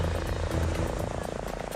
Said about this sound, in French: L'hélicoptère de la gendarmerie arrive.